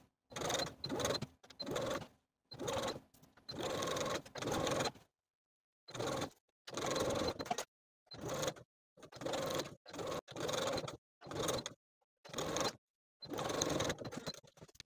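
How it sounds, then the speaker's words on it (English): A domestic sewing machine topstitches a pant side seam in repeated runs of steady whirring, each lasting about one to two seconds and separated by short silent pauses, heard up close. "We're going to top stitch along the back pant 1/8 inch away from that side seam from the top of the pant"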